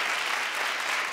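An audience claps together in a dense, steady burst of applause that lasts about a second.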